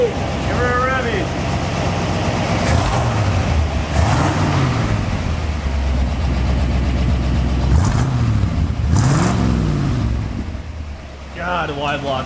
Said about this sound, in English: wide locks sound good through a glass pack.